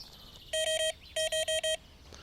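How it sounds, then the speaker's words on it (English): A carp fishing bite alarm sounds in two quick bursts of sharp electronic beeps, three tones then four, close and clear over a quiet outdoor background. "and turn the alarm on."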